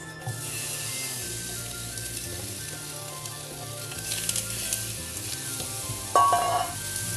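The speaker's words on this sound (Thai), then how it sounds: "อันนี้ก็เหมือนแบบทอดให้มันเกรียมๆไปก่อนนะคะ" Fish heads and bones frying in oil in a pan for sauce, a loud steady close sizzle with occasional stirring scrapes and a brief sharper clatter near the end.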